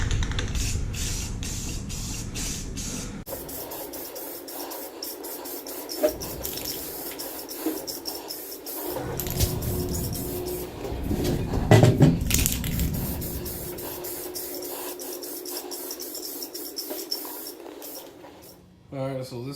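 Spray can coating a 1969 Dodge Charger tail light housing, with repeated hissing bursts of varying length, close and fairly loud, separated by short pauses and brief handling noise, alongside someone talking.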